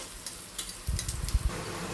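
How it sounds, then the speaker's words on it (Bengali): Bay leaf, cinnamon, cloves and cardamom sizzle in hot oil as a tempering, with soft crackles that pick up into a busier cluster of pops near the end. Nobody speaks. "একটা তেজপাতা দারচিনি লবঙ্গ এলাচ ফোড়ন দিয়ে দিলাম দিয়ে ফোড়নটা একটু ভাজা ভাজা করে নিচ্ছি"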